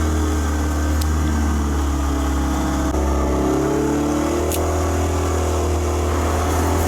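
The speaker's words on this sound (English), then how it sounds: "I do have a problem with the engine racing" A Raffo Belva kit car's engine is running too fast at idle, a loud, continuous engine drone with a brief rise in pitch partway through.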